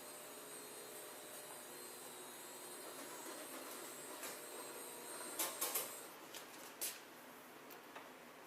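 A motor on an operating room bed hums steadily as the bed is raised in a hospital surgical setting, a continuous faint drone followed near the end by a few light clicks and knocks.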